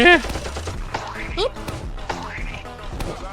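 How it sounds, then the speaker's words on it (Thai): Gunfire from a giant robot Cappuccino Assassino boss in a prison-run video game, a rapid burst of shots with sweeping synthetic sweeps and effects under excited talking. "มันยิงปืนใส่เรา"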